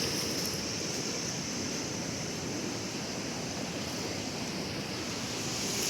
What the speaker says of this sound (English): There'll be some rough waters today. Swift, rough waters.